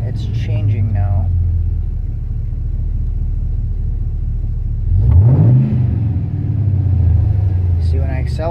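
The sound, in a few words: LQ4 V8 engine revving under acceleration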